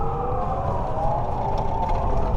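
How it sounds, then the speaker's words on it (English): Sirens wail steadily through city traffic in Washington, D.C., a continuous sustained tone over a dense low rumble of street noise, moderately loud and without talk. "Away from those sirens, because honestly they're pretty annoying."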